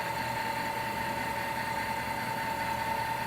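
An Indelac electric fail-safe valve actuator drives to its closed position with a steady, even motor hum and a fixed whine. The sound is continuous and moderately loud throughout, with no talking.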